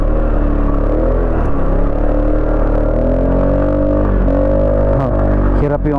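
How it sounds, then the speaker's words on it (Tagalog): An RFI 175 motorcycle labors up a steep, slippery uphill road, its engine rumbling and whining loudly under strain with clattering, pitch rising and dipping throughout. "Hirap yung ating motor."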